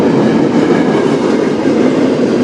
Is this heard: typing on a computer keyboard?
no